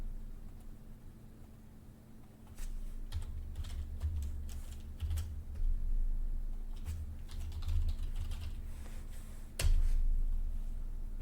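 Computer keyboard typing while a form is filled in, scattered soft key taps in short bursts over a low steady hum, fairly close and quiet.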